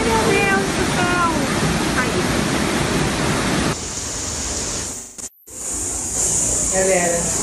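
Heavy rain pours down in Rio de Janeiro as a loud, steady broadband rush, with voices talking over it early on and a brief dropout near the end before the downpour returns.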